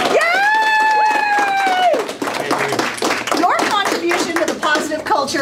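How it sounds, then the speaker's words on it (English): A school awards ceremony audience claps and cheers for an award recipient, dense clapping running under a sung or shouted voice at first, then continuing with scattered whoops and talk from the crowd. "Thunderous applause for McCabe Brockett"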